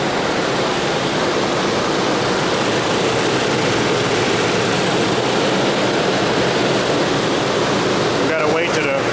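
A Toyota Tacoma engine runs steadily during a radiator flush, a loud, constant idling drone close by with broadband noise, briefly joined by a voice near the end.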